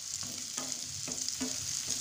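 Onions fry in a pan to light brown for a restaurant-style malai kofta, a constant soft sizzle with stirring scrapes and clinks roughly every half second, close and fairly quiet, with no talk.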